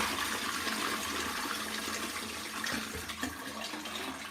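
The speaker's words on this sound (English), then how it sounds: "we're going to give it a flush" A household toilet flushing in a home bathroom, a steady rushing wash of water that holds close and loud for several seconds without talk.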